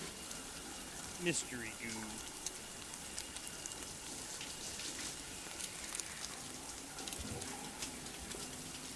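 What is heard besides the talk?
hot shower running water in Death Stranding video game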